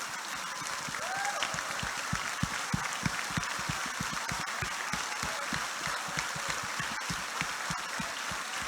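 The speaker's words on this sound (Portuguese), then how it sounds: "a gente só tem que ficar de pé e aplaudir ao Senhor" A church congregation stands and applauds during a service, fairly faint, continuous dense clapping that sounds distant and rain-like, holding evenly throughout.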